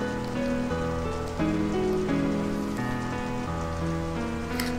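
Rain falling in Final Fantasy VIII, a steady hiss of drops heard alongside a soft sustained musical drone that shifts pitch slowly.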